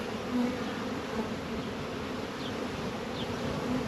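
Dense, continuous buzzing of many honey bees close by around a hive, a steady drone with occasional individual insects passing near.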